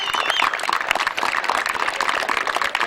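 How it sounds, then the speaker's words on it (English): Steady applause from parents and families at a Little League baseball awards gathering, a continuous patter of clapping hands at moderate distance with no voices over it. "maybe get a round of applause for all the effort they did as a team and winning as a team"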